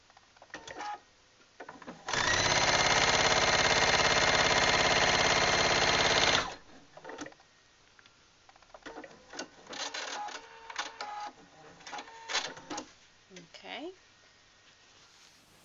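A sewing machine stitches a fabric Christmas stocking in one loud, steady run of about four seconds, followed by shorter bursts of stitching and handling noises, with a quiet voice talking in places.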